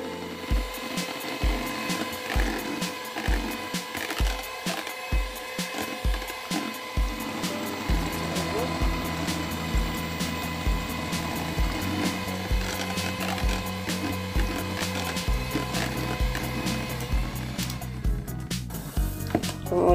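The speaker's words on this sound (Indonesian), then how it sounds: "Kita mixer dengan kecepatan rendah." A hand mixer's motor hums steadily at low speed with a repeating rhythmic clatter and grinding, mixing sponge roll cake batter at an even pace, close by and fairly loud.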